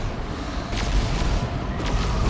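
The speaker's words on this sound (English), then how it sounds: "and that is an Eldritch Storm." Eldritch Storm attack in the video game Dawn of War 2, a dense roaring barrage of crackling blasts and booms, loud and continuous over two seconds.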